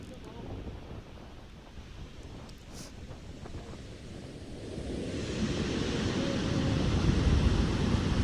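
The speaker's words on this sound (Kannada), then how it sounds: "ಹೊಗ್ನೇಕಲ್ ಎತ್ತ ನೋಡಿದ್ರೂ ಕೂಡ ಹಾಲಿನಂತೆ ನೀರು ಹರಿಯುತ್ತಾ ಇದೆ" Hogenakkal Falls in Chamarajanagar's Hanur taluk pours heavily after monsoon rain, a steady broadband rush of falling water that swells louder over the second half, with wind buffeting throughout.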